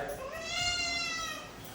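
A pet house cat gives one drawn-out, rising-and-falling meow close by, clear and fairly loud against a quiet room.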